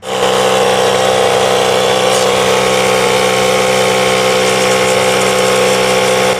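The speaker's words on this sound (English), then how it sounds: "I'm using this cheap compressor to blow away some of the loose dirt before I get started" A cheap air compressor blowing loose dirt off a 5.2L V8 Jeep ZJ engine, a loud continuous motor drone with a steady rushing hiss, close and unbroken.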